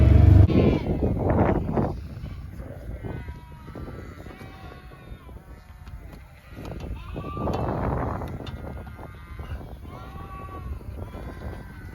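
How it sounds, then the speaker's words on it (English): Ewes and lambs bleat repeatedly in a sheep pen, several overlapping calls near and farther off, with soft shuffling between them and a louder burst at the start. "We've got the ewes and the lambs in, now we've got to draft them."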